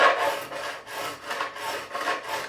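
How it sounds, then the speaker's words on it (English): A profiling file rasps across a guitar fret to remove burrs before re-crowning, in about six even back-and-forth strokes, close and fairly quiet with no talk. "take my profiling file and just remove any extra burrs"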